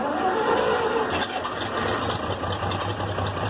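A tractor engine cranks and catches without choke on a mild day, settling into a steady, close, loud low idle that runs unbroken through the clip.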